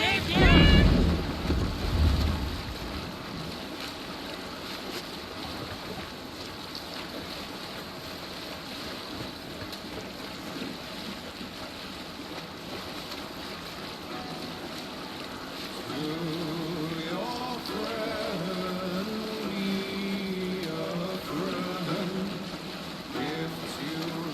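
Wind rushing steadily while a Viking longship sails in the video game Assassin's Creed Valhalla, a continuous airy roar over water after a louder opening burst, with voices and music coming in partway through.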